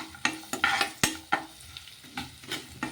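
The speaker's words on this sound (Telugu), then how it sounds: "అల్లము, వెల్లుల్లి రెబ్బలు, అలాగే కారము, ఇవి రెండు కూడాను వేసేసుకొని మొత్తం ఒకసారి బాగా కలిపేసుకుందాము." Ginger, garlic and chili powder frying in a pan, stirred in quick repeated scrapes that come roughly every half second over a constant close sizzle.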